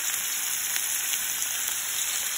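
Shallot hitting a hot pan for shrimp scampi alongside peeled, deveined shrimp, giving off a steady, bright sizzle and crackle with occasional sharper pops, close and continuous.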